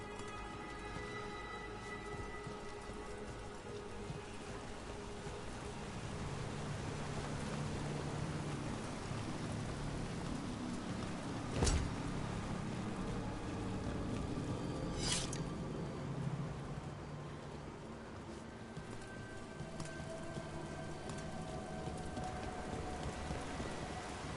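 Constant rushing water from a waterfall in the Dragon Age: The Veilguard game world, a steady broadband wash that swells gently through the middle, with two faint sharp clicks and no voices.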